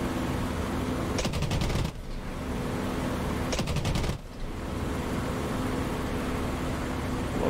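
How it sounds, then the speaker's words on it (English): A Spitfire Mk IX fires its cannons in the DCS World flight simulator: two short, rapid bursts of heavy automatic fire ring out over a constant loud engine drone in the cockpit. "Let's see what the cannons will do."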